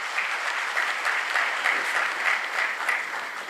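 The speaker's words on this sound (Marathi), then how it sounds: "Come on everyone, big round of applause." An audience in Nashik gives a big round of applause at an interview event with Dr. Pravin Gedam, steady dense clapping sustained throughout at moderate volume.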